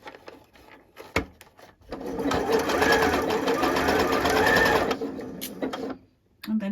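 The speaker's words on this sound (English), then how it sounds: "Position your elastic under the presser foot. Start to zigzag over the elastic." A sewing machine zigzag-stitches over elastic under the presser foot, set to width 2.5 and length 1.5, running in one steady fast burst of close, loud mechanical whirring, with a few clicks before and after.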